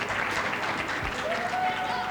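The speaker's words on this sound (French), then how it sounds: "On applaudit, on applaudit." An audience applauds at a high-school quiz competition semifinal in Yamoussoukro, a steady wash of clapping throughout, with a brief voice rising near the end.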